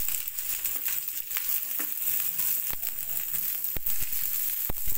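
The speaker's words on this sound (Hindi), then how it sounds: "अनियंस को लाइट पिंक होने तक सॉटे करेंगे" Roughly chopped onions sauté with cashews in a pan for shahi paneer, a continuous close hiss and sizzle with occasional sharp crackles and stirring scrapes throughout.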